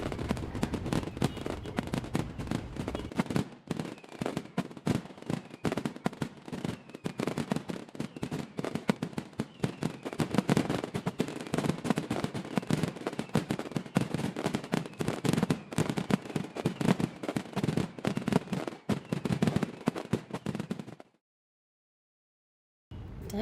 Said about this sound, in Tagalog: Ito na po yung pinali guys ng fireworks.